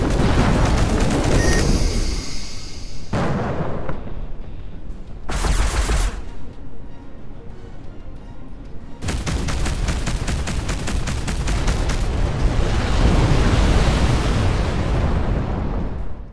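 Spaceship weapons fire in the space game Between the Stars, loud dense bursts of rapid volleys and blasts, broken by short pauses between barrages.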